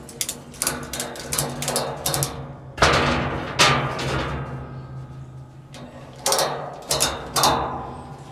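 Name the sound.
ratchet strap being tightened on an oil tank evaporator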